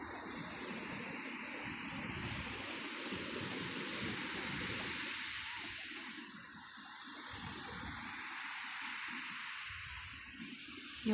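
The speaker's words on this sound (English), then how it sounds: "you are not controlling the waves" Ocean waves wash onto the shore in a steady, soft roar of surf that swells and ebbs slightly, with no voices over it.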